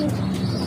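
Purebred pigeon, a Roger Florizon line, giving a short, close, low throaty coo heard alone.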